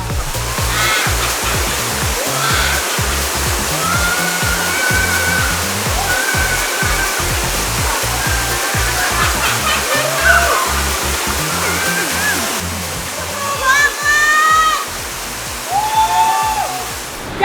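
Rushing rapids of the Serayu River, with small waterfalls spilling from the cliffs along its banks, give a loud, continuous roar of water throughout, with brief brighter splashes near the end.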